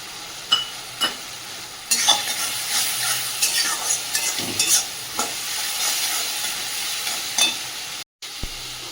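Meat frying in a pan with a spoonful of green chili paste, stirred: steady close sizzle with repeated scraping stir strokes and occasional sharper clanks, a brief silent gap near the end.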